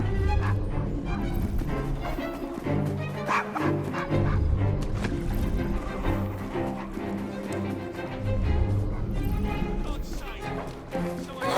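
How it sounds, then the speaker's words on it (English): Dog barking in the video game Assassin's Creed Syndicate, repeated sharp barks mixed with yips over game sounds and music, with talk heard alongside. "Shut up, dog!"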